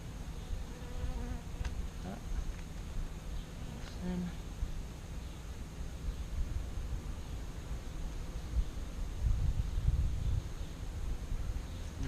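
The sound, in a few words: honeybees buzzing around an open hive frame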